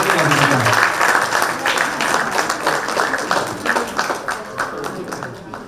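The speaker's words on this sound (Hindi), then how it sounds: "जोरदार तालियों से स्वागत रोहिणी भाभी जी का।" Applause welcoming the next poet to the stage at a Kavi Sammelan poetry event, loud dense clapping from the audience that gradually thins and fades over several seconds.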